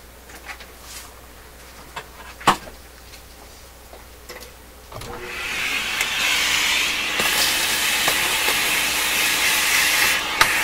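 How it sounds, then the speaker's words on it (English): A vacuum cleaner switches on and runs steadily with a broad hissing roar, sucking up debris from a dissected Northern Electric 832A capacitor; quiet ticking and a sharp click come before it starts. "I'm going to have to vacuum up this stuff here."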